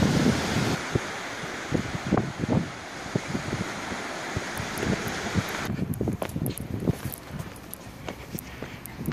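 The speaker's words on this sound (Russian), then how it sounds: "Волна шумит, здесь дикий пляж, красив Каспийский берег наш." Waves wash onto a wild Caspian Sea beach in a continuous broadband roar mixed with wind buffeting the microphone, with occasional crunching steps or handling bumps and the surf thinning out toward the end.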